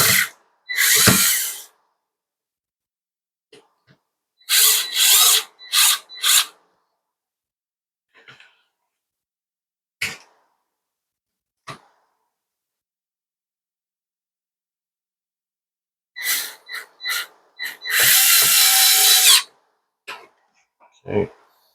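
A cordless power drill drives small screws into a Dyson cordless vacuum motorbar, giving short close whirring bursts of about a second each, then a longer run near the end, separated by silent gaps and soft clicks of handling.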